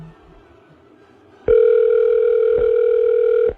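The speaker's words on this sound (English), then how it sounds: "2 rings." After a moment of quiet room noise, one sustained electronic phone ring tone starts sharply and holds steady for about two seconds, loud and alone.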